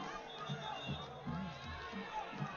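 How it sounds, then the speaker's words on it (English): Football fans of a Chisholm high school crowd cheering in the stands during a game against Jones, a muffled, distant roar of voices with small swells and scattered shouts. "the Chisholm fans are cheering"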